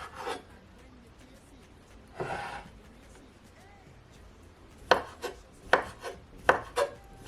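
A knife chops through cabbage on a cutting board, a few soft strokes early, then a quick run of sharp, close, evenly spaced cuts near the end.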